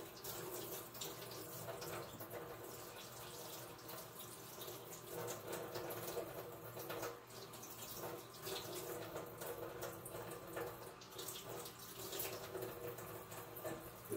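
Tap water runs steadily into a sink while stratified seeds are rinsed, a faint continuous splashing hiss that lasts throughout with small handling sounds.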